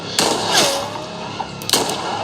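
A gunshot from the horror film It Follows, with two sharp broadband cracks about a second apart. They ring out loud against a tense ambient soundtrack with a sustained tone.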